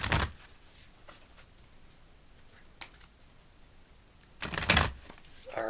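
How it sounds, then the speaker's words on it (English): Tarot cards are shuffled in short, crisp riffling bursts, one at the start and a louder double burst near the end, with quiet handling and small taps between. "Alright, one more shuffle."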